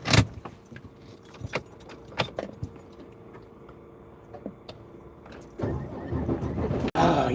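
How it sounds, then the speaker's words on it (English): A truck with air brakes being started: keys jangle and rattle first, then the engine cranks and catches into a loud, steady idle rumble that fills the last couple of seconds. "It's always a good thing when the truck starts."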